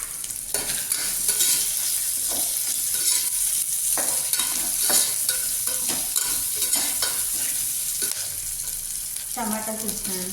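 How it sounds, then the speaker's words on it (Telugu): Long-cut onions with salt frying and being stirred in a pan, a steady sizzle broken by repeated scraping strokes of the spoon through the whole stretch, with no talk. "ఆనియన్స్ కొంచెం ఆనియన్స్ ఫ్రై కావడానికి ఉప్పు వేస్తున్నాను,"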